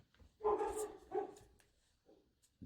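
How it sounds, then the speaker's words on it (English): Dogs barking nearby in two loud bursts, a longer bark at the start followed by a shorter one, then fading to quieter yips and low sounds in an indoor setting. "Dogs are barking."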